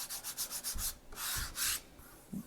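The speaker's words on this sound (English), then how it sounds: "these cards have that texturing on the front that you might remember from some of the components in that game, but you can kind of hear it" A fingertip rubs across textured board game cards in short, dry scraping strokes. A quick series of rubs is followed by two longer passes, close and fairly quiet.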